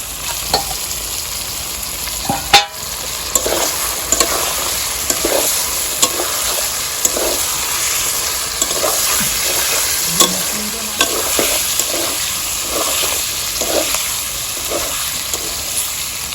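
Chicken pieces and salt go into a hot pan for a village-style Bengali chicken curry with taro, frying with a steady sizzle and repeated stirring scrapes and clinks throughout, close and fairly loud.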